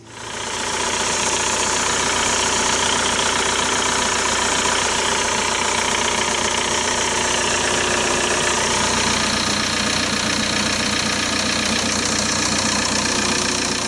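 A car engine idles steadily after being refilled with fresh oil during an oil change, a continuous even rumble held close and loud for the full length with no voices.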